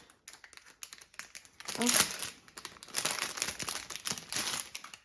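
Plastic packaging around a small foot rasp crinkles and crackles close up in bursts of handling, with a brief spoken word amid the rustling.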